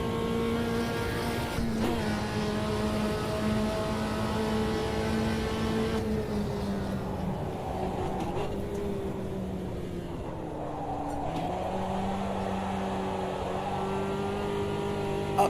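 A racing video game car engine drones and revs with shifting pitch as it struggles for torque up a hill and bogs down. The steady engine tone carries on almost alone.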